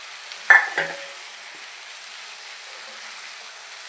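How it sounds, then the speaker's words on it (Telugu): Dried fish is added to onions and tomatoes already frying in a pan: a faint, steady background sizzle follows one brief clattering drop near the start. "ఉల్లిపాయలు టమాటాలు బాగా ఫ్రై అయిపోయాయి ఇప్పుడు చేపలు వేసేసుకుని"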